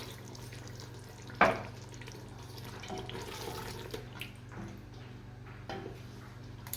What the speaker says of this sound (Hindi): एक गिलास इसके अंदर हम पानी ऐड कर देंगे।